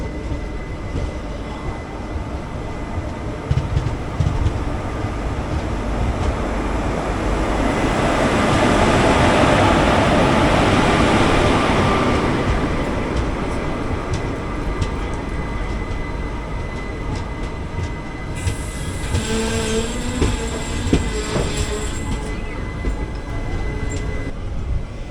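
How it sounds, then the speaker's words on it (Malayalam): A Madurai–Sengottai passenger train hauled by locomotive 22980 rumbles past near Srivilliputhur station, a loud sustained roar of wheels and carriages that swells in the middle, with rhythmic clatter and a brief tonal whine near the end. "മധുരൈ ചെങ്കോട്ടെ പാസഞ്ചറാണ്."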